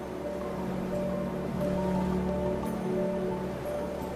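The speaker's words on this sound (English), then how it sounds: "You can hear the sound of the ocean magnified by this wonderful chamber of this cave." Ocean waves echo inside a coastal sea cave on the Australian shore, making a steady, full roar that fills the chamber and holds without clear breaks.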